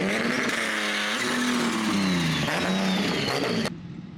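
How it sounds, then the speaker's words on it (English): A big-turbo Nissan G37 drift car running on E85, with a front-mounted intercooler, revs loudly nearby, its engine note climbing and dipping in repeated pulls before cutting off abruptly. "Little drift car. Shit sounds cool."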